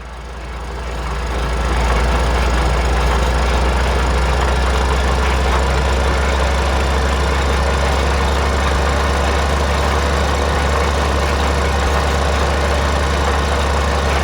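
A steady low tractor engine idles continuously in a farming video game, a deep rumbling drone that holds evenly throughout after a brief rise at the start, with no voices.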